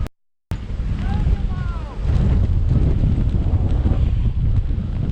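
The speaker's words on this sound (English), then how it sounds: "Crazy windy." Loud, blustery wind buffets the microphone while snowboarding at Breckenridge in a continuous low roar, cutting out briefly at the start and gusting harder midway.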